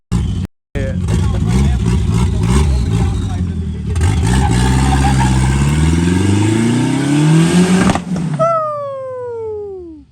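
Loud, raspy exhaust from a homemade Ka-T build fitted with a 4BT diesel engine, revving steadily up with rising pitch for several seconds, briefly cut at the start, then dropping off sharply near the end.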